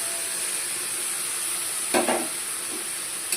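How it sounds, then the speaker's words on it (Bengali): Ginger and cumin paste fried in spiced oil for a Bengali bottle-gourd greens chorchori, giving a steady close sizzle with a brief louder burst of stirring partway through. "এবার দিয়ে দিচ্ছি আদা আর জিরে বাটাটা।"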